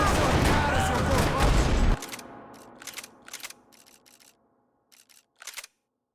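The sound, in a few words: gunfire in a parking lot, Max Payne video game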